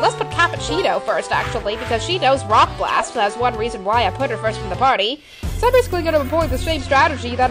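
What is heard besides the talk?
No distinct noise like a dog, phone or traffic.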